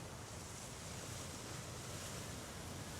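Sea waves wash onto the shore under a moonlit sky, a steady broadband roar of surf with wind noise, continuous and fairly loud without breaks.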